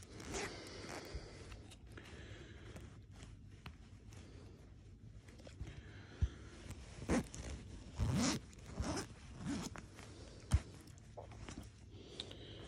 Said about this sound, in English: And if I can get this zip undone with one finger